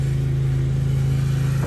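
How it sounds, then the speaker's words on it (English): A lawnmower engine drones steadily as it passes near a 1976 Toyota FJ-40 under electrical repair. The low, even motor hum stays loud and continuous throughout, with no talking over it. "Sorry about the lawnmower drove by."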